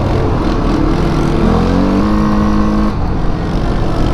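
A CF Moto 450 ATV engine revs hard and holds at high RPM, with the pitch rising and then dropping back near the end. Loud, close and continuous, with no talk.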